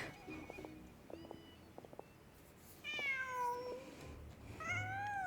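A cat meows in the Genshin Impact video game: scattered short clicks and soft tones first, then two clear, drawn-out meows in the second half over a quiet background, with no speech.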